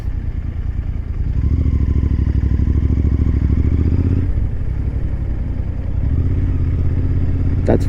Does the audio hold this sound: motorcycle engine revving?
yes